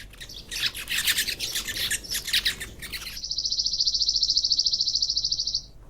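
Busy chirping from sparrows in quick overlapping bursts, then a single insect-like trill buzzes steadily for a few seconds before stopping.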